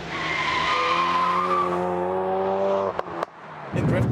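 Ford Focus RS in drift mode power-sliding sideways, a loud sustained tire squeal with a rising engine drone running close for about three seconds, then a brief break and renewed roar.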